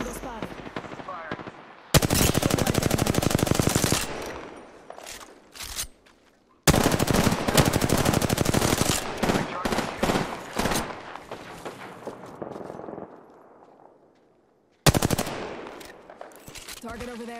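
Apex Legends gunfire rattles in long, loud automatic bursts with abrupt stops, scattered single shots and quieter gaps in between, while a voice speaks at times.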